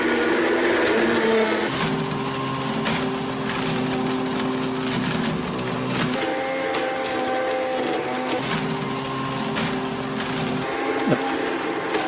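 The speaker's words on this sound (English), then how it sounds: "I knew I could get the iPad in a BlendTech Total Blender. I think I'll press the iBlend button." A Blendtec Total Blender grinds up an iPad with a loud, steady motor whir and rough, clattering grinding that runs without a break for about twelve seconds.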